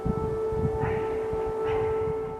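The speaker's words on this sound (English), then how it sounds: "Air raid sirens sounded in Kyiv after those ceasefire talks." Air raid sirens sounding over Kyiv: a sustained tonal wail holding steady under a rumbling city background, with faint swells in the upper tone, heard without speech.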